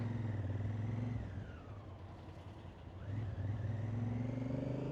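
A vehicle cruises along a highway in western China, its steady engine and road drone filling the clip, easing slightly in the middle before returning to a loud, even hum.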